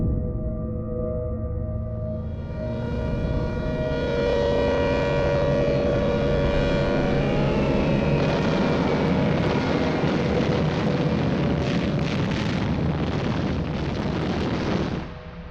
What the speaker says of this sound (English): there was no escaping the bombers